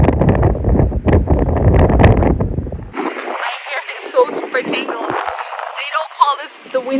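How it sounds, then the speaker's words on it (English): Strong wind battering a microphone outdoors in Essaouira, Morocco, a loud, gusty rumble and roar after a few seconds of talking, with bright flutter and crackle throughout. "It is definitely windy here, even more so than Chicago."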